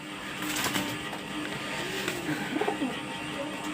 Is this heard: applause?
no